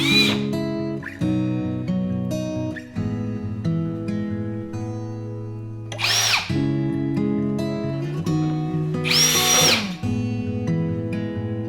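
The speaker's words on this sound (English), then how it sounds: "I simply pre-drilled the holes and then installed wood screws" A cordless drill pre-drills holes and drives wood screws while drawer hardware is installed, heard as several whirring runs that speed up and bog down in bursts, separated by brief pauses, close and fairly loud.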